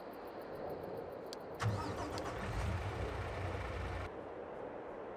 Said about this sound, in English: Start the truck, John.